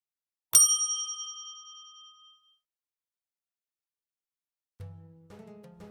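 A single bright notification bell ding rings out alone and decays slowly into silence, later followed by a soft, lower chime.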